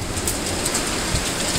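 Steady heavy rain during the Korean summer rainy season, a dense constant hiss of drops falling on surfaces, close and unbroken.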